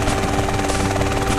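Loud, steady helicopter rotor thrum with a continuous engine buzz, close and unbroken throughout, in the video game GTA San Andreas.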